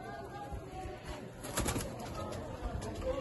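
Pet pigeons at a loft give soft cooing with a few bursts of wing flapping, fairly faint and close, mixed with low background noise.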